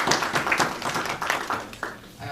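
An audience at a university workshop on generative AI in higher education claps for a speaker, a short spell of scattered, moderately loud hand claps from a modest group.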